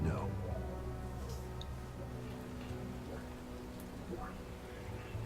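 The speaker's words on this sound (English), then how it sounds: "You know, we're walking around here getting covered in rain." Steady rain falls and patters in the Silent Batman video game, a constant hiss with scattered drips and faint ticks that fades slightly after the opening second.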